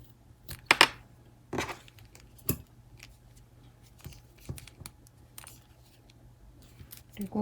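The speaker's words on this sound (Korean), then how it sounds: "여기 이제 밑부분은 가위로 잘라 주시면 돼요" Scissors snip the ends of crochet yarn on a handmade cord strap: a few sharp, quiet clicks and cuts close by, spaced irregularly, with no talking.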